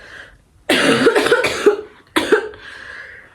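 Two harsh, forceful coughs close to the listener, the first a longer rattling burst and the second shorter, separated by a brief pause.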